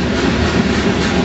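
A graffiti-covered train passing close by on the rails, a loud, steady rumble with rolling clatter filling the whole moment and no voices.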